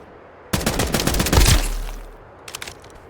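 Gunfire in the video game Escape from Duckov: a loud burst of rapid automatic shots with a booming tail, then a few fainter, quick shots after a pause.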